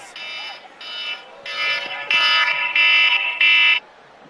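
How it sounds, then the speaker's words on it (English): A set alarm buzzes in loud, regular pulses of a harsh electronic tone, each lasting about half a second, growing slightly louder, with a faint voice in the background. "I don't even know why I had that alarm set."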